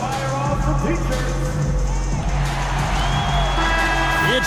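Arena crowd in the basketball game NBA2K25 cheering during a break in play, a steady loud roar of voices with a low hum beneath it.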